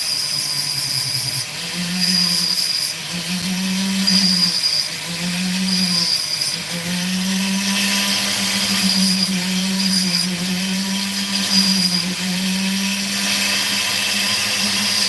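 Opal being cut and shaped on a lapidary machine: a steady high-pitched whirring grind that repeatedly dips and resumes as the stone is pressed and lifted, continuous and close with no talk.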